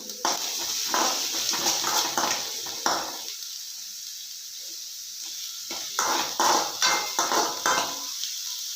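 Chillies are stirred in a pan while vegetable Maggi cooks, giving close, irregular metallic scrapes and clinks in short bursts with a quiet pause in the middle.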